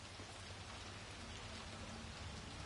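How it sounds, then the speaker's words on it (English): Rain pattering on an old rubbish bin in the video game Hitman VR, a steady, dense patter of drops heard from inside the bin, faint overall and continuous, with no voices. "You can now pretend you're inside an old rubbish bin, getting rained on"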